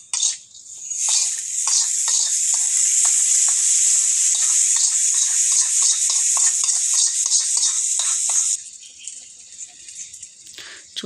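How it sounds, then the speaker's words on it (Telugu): Hot tempering (popu) hits tamarind stew (pulusu) with a loud, steady hiss and crackle that runs for about eight seconds, then drops to quieter bubbling and soft clatter. "ఓకే, పోపు వేగిపోయింది. ఆఫ్ చేసేసుకొని పులుసులో వేసుకుంటున్నాను."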